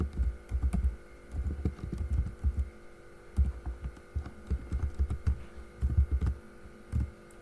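Keys tapped on a computer keyboard in uneven bursts of soft clicks and thumps, close and fairly loud over a constant low electrical hum, no one talking.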